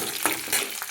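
Garlic and curry leaves sizzle in hot oil for chickpea usal, with a few close scraping stirs of the spoon over a continuous loud fry.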